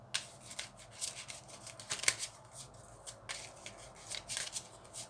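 Tarot cards riffled and shuffled by hand in several quick bursts, close and crisp, with short pauses between the flurries.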